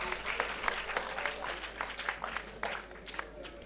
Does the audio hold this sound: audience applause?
yes